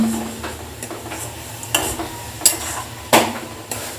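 A spatula stirs green mango chutney in a pan, making soft scraping strokes and several sharp clicks of metal against the pan over quiet background sizzle.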